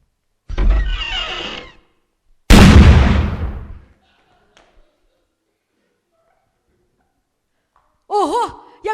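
Two sharp bursts a couple of seconds apart as jars of pickles burst, each a loud crack with a decaying rumble, then quiet, and a brief voice near the end.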